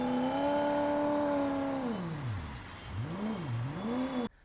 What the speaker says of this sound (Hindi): महिंद्रा का आपको फीचर तो पता ही होगा, BE6 और 9S में भी आता है, जिसमें कार का आर्टिफिशियल साउंड आता है।